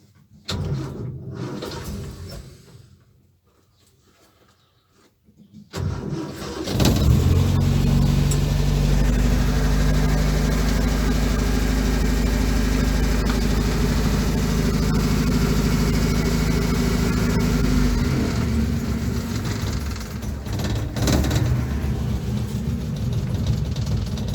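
A Land Rover Series 2a long-wheelbase engine cranks briefly, falls quiet, then catches and settles into a loud, steady idle with the choke pulled out, running continuously close by.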